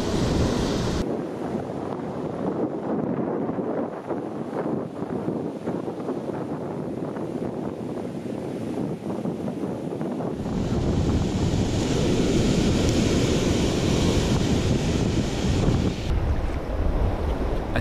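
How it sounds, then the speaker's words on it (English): Strong wind buffets the microphone on a sand crab fishing beach, a continuous roaring rush with waves and surf mixed in, growing heavier partway through with no talking. "Quite windy."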